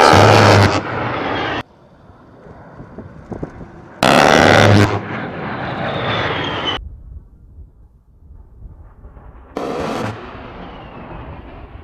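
An A-10 Warthog attack aircraft flying, heard as loud bursts of roaring engine noise that cut in and out between quieter stretches, sounding powerful and fairly close.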